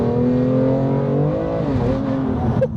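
A BMW M2 Competition with a straight-through exhaust and its valves fully open drones loud and close, the engine note rising and falling steadily with audible turbo whoosh before a brief dip near the end.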